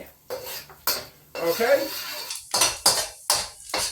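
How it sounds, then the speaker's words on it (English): Garlic and ginger stir-fried in a pan for soy sauce chow mein, with bursts of metal utensil scraping and clanking against the pan in quick irregular strokes, close and fairly loud, while a voice speaks briefly. "So keep stir frying this"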